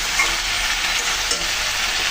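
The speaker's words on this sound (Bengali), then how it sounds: "মশলা দিয়ে তরকারির সাথে সুন্দর করে কষিয়ে নিলাম।" Spices and vegetables fry in oil for a taro and tilapia curry, producing a loud, continuous, dense sizzle up close with only slight shifts as the mixture is worked in the pan.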